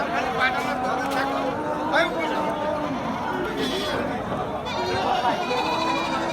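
Goats bleat at a busy goat market in Jhenaidah, Bangladesh: several wavering bleats at moderate distance rise over constant crowd chatter, and people talk throughout.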